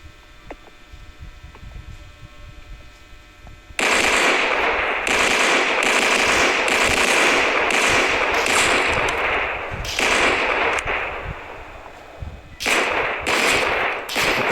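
In a Roblox shooter game, rapid gunfire crackles in long bursts of sharp, loud reports after a quieter opening, pausing briefly before more volleys erupt near the end.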